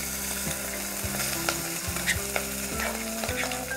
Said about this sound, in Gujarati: વઘાર થઈ ગયો છે હવે આપણે એની અંદર રાંધેલો ભાત છે એ એક બાઉલ જેટલો નાખશું